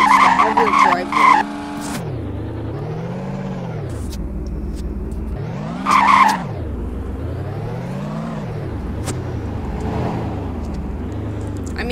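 A car pulls hard in sport mode, its engine rising and falling in repeated revving sweeps with turbo whoosh and whistle, loud and close from inside the cabin, with brief bursts of talk over it.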